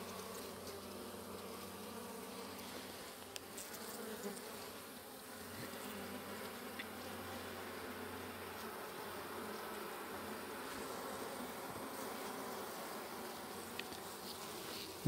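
Honey bees hum in a steady, dense buzz from an opened hive of a weak colony during an inspection, continuous and fairly close with no voices.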